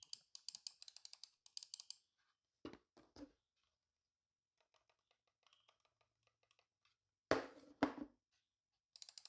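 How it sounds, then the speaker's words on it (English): Logitech M350 Pebble mouse with quiet-click buttons, faint soft rapid clicks in a quick burst, then sparse scattered taps with a couple of louder knocks, close and isolated. "This Logitech Pebble mouse comes with Logitech next generation quiet click mouse"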